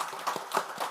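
A church congregation claps during a Sunday worship service, a dense, fairly soft patter of many hands lasting about a second.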